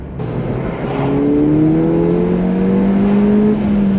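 A tuned Ford Fiesta ST with a 1.6-litre engine, stock apart from a drop-in filter and lowering springs, accelerates hard, its rising engine note climbing steadily through a gear with a clear whir, loud and close from inside.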